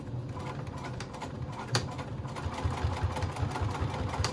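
A sewing machine stitches a fabric beach pouch: a continuous close, rapid mechanical whirring and clatter runs steadily throughout, with one sharp click partway through.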